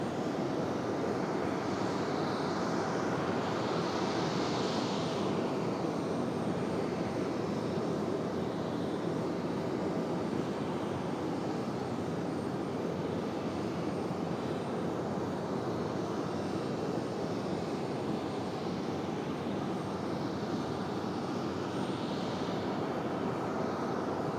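A jet airliner departing runway 23 right at Raleigh-Durham International, a steady broad engine roar that holds loud and constant for the whole stretch with no voices.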